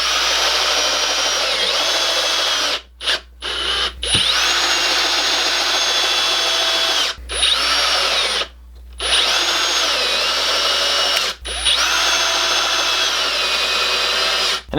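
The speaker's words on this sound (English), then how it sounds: "let me drill a couple more holes" A power drill boring pocket holes in wood, several loud sustained whirring runs broken by brief pauses and short bursts of the motor spinning up and stopping, close by.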